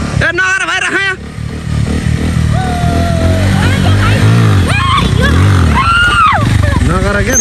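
A scooter engine revs loudly near Nagarkot, the pitch rising and falling in repeated surges, while people talk over it throughout.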